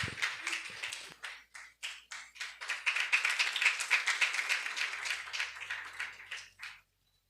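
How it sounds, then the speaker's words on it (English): Audience applause at a poetry slam, a brisk run of many hand claps that builds, stays full for a few seconds, then thins out and stops. "Round of applause."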